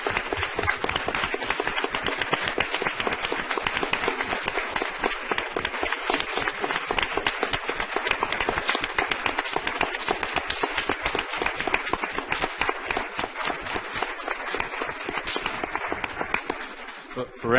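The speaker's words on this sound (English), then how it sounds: "Round of applause." An audience at a ceremony honoring a state principal of the year gives sustained applause, dense clapping that holds steady and loud for the whole stretch before tapering off at the very end.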